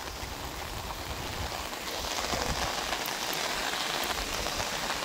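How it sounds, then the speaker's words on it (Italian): Steady rain pours down without a break, a dense even hiss of drops pattering on surfaces, moderately loud and with no talking. "E continua a piovere"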